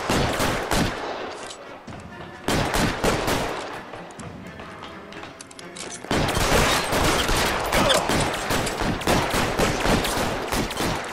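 Rapid gunfire in the L.A. Noire video game, a dense burst of repeated shots, loud and close, with bursts broken by brief pauses, then a heavier stretch of continuous firing.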